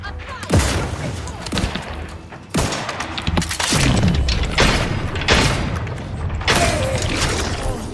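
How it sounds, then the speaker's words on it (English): Grenade explosion and heavy gunfire in the video game The Outer Worlds 2, a series of loud booming blasts and thuds spaced about a second apart, all close and forceful. "Grenade for you."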